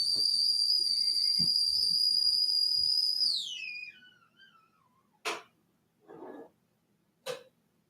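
A kettle whistles shrilly as water boils: a high, steady tone holds for about three seconds, then slides downward and fades, followed by a few sharp isolated clicks in otherwise quiet surroundings.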